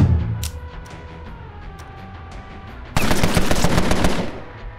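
Video game gunfire from Empire of Sin, a sudden loud burst of rapid automatic shots that continues steadily for nearly two seconds before fading, after a quieter stretch of low ambient background.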